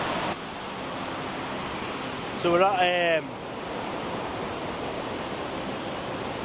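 Water pours continuously at the Reekie Linn waterfall as a dense, steady rushing roar, with a brief spoken word partway through.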